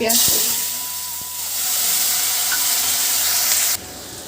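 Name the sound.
cumin and chopped onion frying in hot oil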